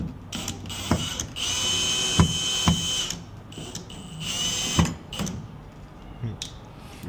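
Power drill driving screws into a metal mounting bracket while installing a door access reader, with several short whirring bursts and clicks close by, separated by brief pauses and handling noise.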